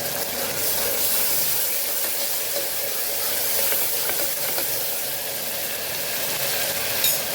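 Steady sizzling and hissing from a hot pan, a continuous bright crackle with faint stirring scrapes, no voices.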